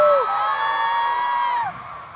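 A large crowd at Jisoo's Hong Kong fan meeting screams and cheers, a dense, sustained wall of high-pitched voices that swells loud and then begins to taper off.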